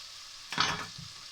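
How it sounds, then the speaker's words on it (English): Browned meat for scouse, dusted with salt, pepper and flour, sizzles in a frying pan with a brief burst of stirring, a short close scrape over a soft steady hiss. "I'm just going to stir that round for maybe 2 minutes"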